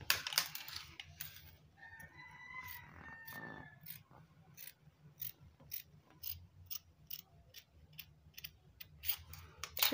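Scissors snip through fabric while the front neckline of a kaftan abaya dress is cut out, a steady series of short, crisp cuts repeating throughout at close range, with some faint handling noise in between.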